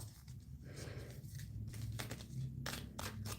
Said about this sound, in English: So we're just going to give them another little shuffle there for you, Debbie.